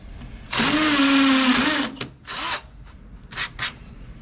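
A cordless power drill whines loudly for about a second and a half while drilling into concrete, then gives several short bursts and grinding spurts.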